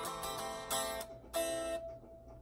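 Two bright guitar chords from a song are strummed, each ringing briefly and then fading, with a short pause between them.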